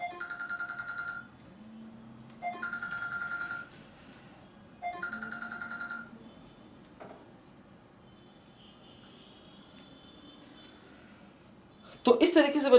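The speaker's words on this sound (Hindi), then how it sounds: "एक फोन आ गया था, फोन बज रहा था" A phone rings in three evenly spaced electronic ring bursts, moderately loud, with quiet background and a burst of other sound at the end.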